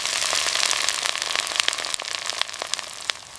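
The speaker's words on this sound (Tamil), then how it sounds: "மண் சட்டியில நெய் விட்டு கடுகு உளுந்து தாளித்து இடிச்ச விழுத வதக்குங்க" Mustard seeds, urad dal and crushed spices fry in hot ghee in a clay pot, giving a dense, close crackle of sharp pops and spatters over a steady hiss, with no talking.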